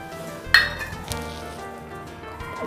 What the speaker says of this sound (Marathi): आणि हे सगळं मी मिक्स करून घेणार आहे